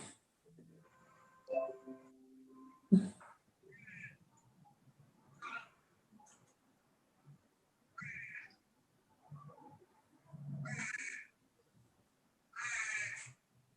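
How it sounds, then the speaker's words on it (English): A bird calls during an online meeting, giving several short separate cries with gaps between them, faint and alone in the room. "I can hear a bird."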